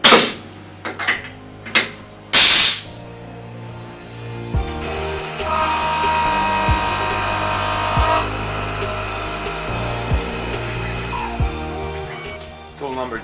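A 2.5 inch face mill cuts metal on a Tormach 1100 CNC mill with flood coolant, a steady tonal whir with periodic tool-engagement clicks, preceded by a few sharp knocks and clatters.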